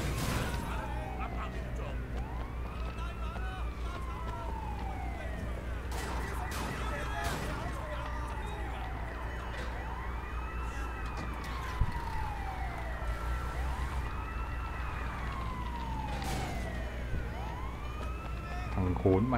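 Police car sirens wailing in the open-world action game Sleeping Dogs, several overlapping rising and falling sweeps repeating steadily throughout at loud, near level over a constant hum of traffic and game ambience, with voices talking underneath.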